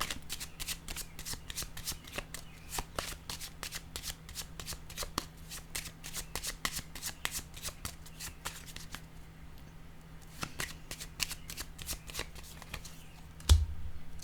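Playing cards are shuffled and laid down in a quiet room, with dense rapid riffling clicks running steadily through most of the span, a brief pause, then more shuffling and a sharp single snap near the end.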